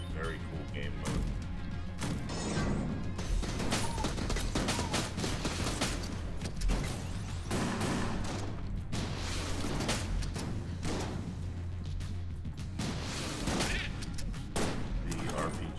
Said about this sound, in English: The RPG is pretty good. A little bit of a slow firing rate.